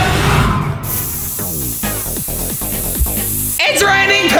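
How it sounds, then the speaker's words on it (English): Spray paint bursts from aerosol cans during a giant art challenge, loud close hissing at the start and again at the end, with a busier, rustling stretch of sound in between. "It's time to make it rain spray paint."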